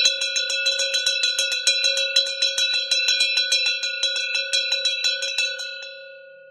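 A hand bell rings steadily and loudly for about six seconds, its rapid regular strokes giving a bright metallic clang that trails off in a fading ring at the end, with no voices over it.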